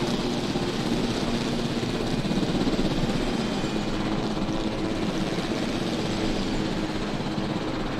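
A helicopter flies in the Jurassic World Evolution video game, its rotor and engine making a steady, dense droning roar that continues evenly throughout.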